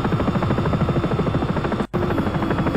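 A Sikorsky S-76 helicopter flying over New York in X-Plane 11 gives a steady, loud rotor chop and turbine buzz that cuts out for an instant before resuming.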